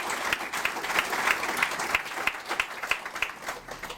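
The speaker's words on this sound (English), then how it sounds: "I think they deserve a round of applause" An evening commemoration audience claps for two speakers, a steady, dense round of applause from a roomful of people, close and continuous throughout with individual sharper claps standing out.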